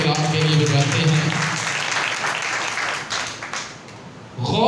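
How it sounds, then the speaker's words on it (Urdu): A church congregation at a Sunday service claps loudly and steadily for several seconds, a dense sustained wash of applause that thins slightly near the end before a voice cuts in. "آئیے زوردار تالیاں ہم خدا کے کلام کے لیے بجاتے ہیں۔"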